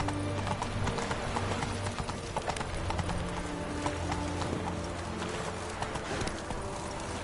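Horse hooves clip-clop in a quick, steady gallop-like rhythm in the Witcher 3 video game, loud and close over a low music bed, with a faint neigh.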